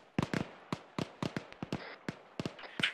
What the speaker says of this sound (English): I think those shots might be coming from the north.